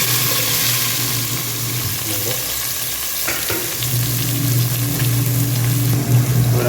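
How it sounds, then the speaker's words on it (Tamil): Onions and green chillies sizzle and fry in hot oil with whole spices such as cinnamon, cardamom and pepper in a pan, a steady loud crackle with occasional stirring scrapes and no voices. "ஸோ இதோட வெங்காயம், பச்சை மிளகா அப்படியே சேர்த்து போட்டுக்கலாம்."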